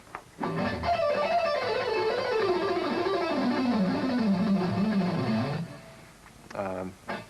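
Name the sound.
rock guitar scale picked starting with downstroke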